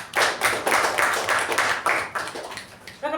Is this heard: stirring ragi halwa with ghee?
no